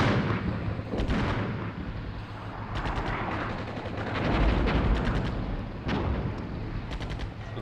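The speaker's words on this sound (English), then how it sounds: "Artillery" Artillery barrages in the Cold War tank game Armored Brigade 2, Soviet forces pushing into Finland: repeated heavy booms and sharp cracks at irregular intervals, some near and loud, others rolling in the distance, over a continuous rumble of battle.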